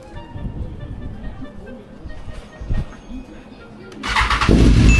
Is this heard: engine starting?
yes